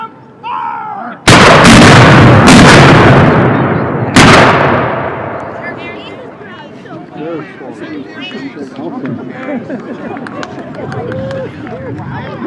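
Cannons fire in a War of 1812 reenactment of the Battle of Longwoods, two loud, close booms a few seconds apart with long rumbling decay, followed by crowd chatter and voices in the background.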